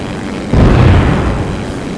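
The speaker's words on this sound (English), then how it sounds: "Bomb." A bomb dropped from a plane in the Simple Planes video game detonates with a sudden loud boom halfway through, its low rumble rolling and slowly fading afterward.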